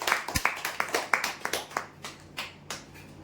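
A small audience claps for a prize draw winner, a short burst of quick, fairly close hand claps that thins out and fades over about three seconds, with no voices over it.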